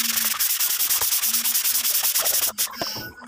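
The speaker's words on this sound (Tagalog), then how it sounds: "After matuyo ng ating primer, ayan, lilihain na naman natin siya." Hand sanding of primed wooden wardrobe doors: steady, rapid back-and-forth scratchy rubbing strokes, close and loud, with a brief break and a few knocks near the end.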